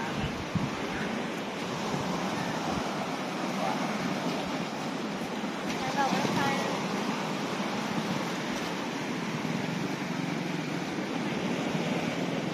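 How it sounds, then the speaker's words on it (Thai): Sea waves wash steadily onto the beach at Pak Nam Pran in Prachuap Khiri Khan, Thailand, a continuous broad surf roar with wind noise buffeting the microphone throughout. "ฟังเสียงคลื่นไปเรื่อยนะครับผม"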